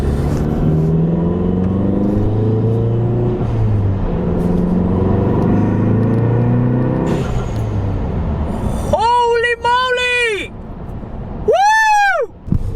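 A tuned Volkswagen GTI running a Stage 2 Unitronic flash tune makes a full-throttle pull: after a steady stretch of background sound, the engine note climbs sharply, drops back, then surges again in two loud, rising rev sweeps near the end.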